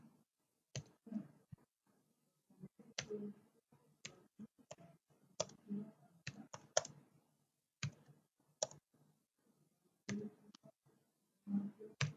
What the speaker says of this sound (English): Now I'm typing something